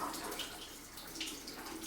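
Faint steady rush of water running from a tap during a water pipe cleaning treatment, continuous and quiet with no talking.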